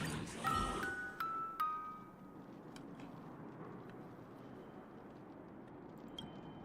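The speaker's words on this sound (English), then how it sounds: "This is our music box." Music box in the video game Honkai: Star Rail: a few bright chiming notes ring out and decay one after another, then soft hiss with faint scattered tinkles lingering at low volume.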